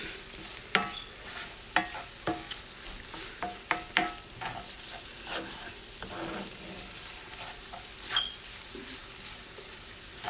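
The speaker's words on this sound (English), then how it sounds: "Gonna get our onions in here and get these all fried up really well" Onions fry in a pan for an Italian frittata, a soft, steady sizzle with occasional sharper ticks and scrapes as they are stirred, fairly quiet with no voices.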